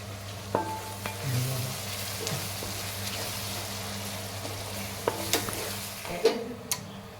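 Onions fry in sesame oil with a soft, steady sizzle, broken by occasional light taps and scrapes of stirring, close but fairly quiet.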